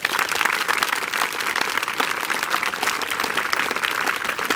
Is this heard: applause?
yes